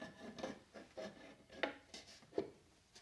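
Wooden floating shelf sliding down onto wall screws, giving several short rubbing, scraping scrapes with a few sharper knocks, close by and without talk.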